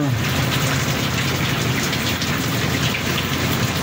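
Steady rain falls during a Christmas fishing trip by boat off Zamboanga City, a loud, continuous hiss of drops on surfaces and water with no pauses.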